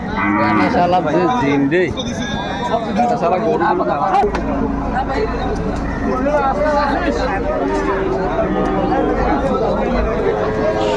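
Cattle low repeatedly amid a busy crowd at a livestock market in Nilphamari, with people chattering all around and the mooing rising over a constant babble of voices.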